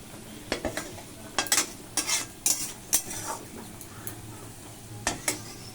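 Spatula stirring and turning kochur loti in a wok on low heat, with repeated scraping and clattering strokes in short bursts over a faint sizzle, close and moderately loud.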